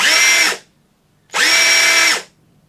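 DeWalt DCF826 impact driver after a gearbox repair, running in two loud, close bursts of about a second each with a smooth whirring motor note and a brief silence between them.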